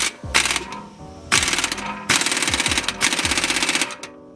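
An impact gun on medium setting tightens a coilover strut bolt on a 2004 Jaguar XJR, firing in three loud, close, rapid hammering bursts separated by short pauses.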